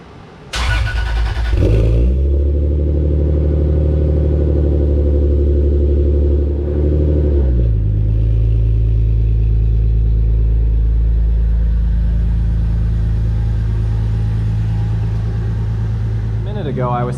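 A car engine cranks and fires up in a garage, then settles into a loud, steady idle with a brief rev dip midway, rumbling close by for the rest of the clip.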